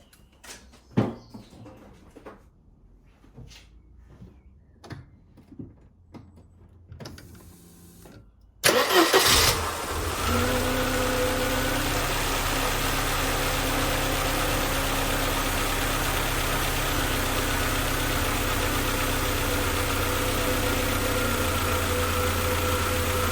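A Mercedes 190E W201 with a misfire and a no-start problem cranks after several quiet clicks and knocks, catches at once and settles into a loud, steady, slightly lumpy idle running close by.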